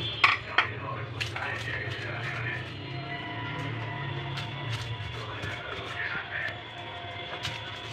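Dried red chili being ground into a paste for a jackfruit seed bhorta, with scraping, grinding and occasional sharp knocks repeating close by over a low steady background hum.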